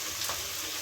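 Chilli chicken frying in a pan gives a steady, even sizzle throughout, close and moderately loud, with no voices over it.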